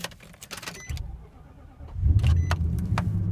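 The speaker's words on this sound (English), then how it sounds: "We'll fire it up." A 2012 Nissan Titan Pro4x pickup with an aftermarket exhaust cranks briefly with a click or two, then catches and settles into a deep, rumbling idle that grows louder and steady.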